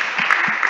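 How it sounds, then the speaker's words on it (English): A short burst of audience clapping at a spiritual gathering, steady and fairly loud with no talking over it. "Hari bol, everyone clap."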